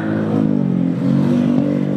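An angkot minibus drives past on a bridge in Jalan Tegar Beriman, its engine droning loudly and close with a slight rise in pitch as it goes by, accompanied by some rattling.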